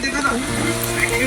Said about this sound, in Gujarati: મસ્ત મજાના તેલમાં તળાય છે ભજીયા